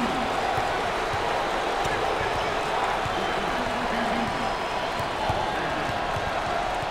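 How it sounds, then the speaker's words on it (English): A college basketball crowd at an NCAA tournament first-round game between Akron and Creighton keeps up a steady, roaring chant that fills the arena at an even, loud level throughout. "As the crowd continues to chant."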